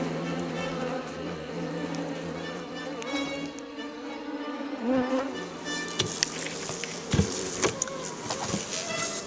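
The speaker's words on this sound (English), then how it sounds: "During the beekeeper's lunch break, a swarm of Asian giant hornets come to attack the honeybees." A swarm of Asian giant hornets attacking honeybees at a hive, giving a dense, close buzzing drone of wings that swells and pulses, with sharper bursts and wingbeat flurries in the second half.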